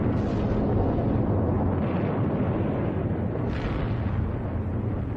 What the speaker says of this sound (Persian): The Allies have begun firebombing Germany's cities.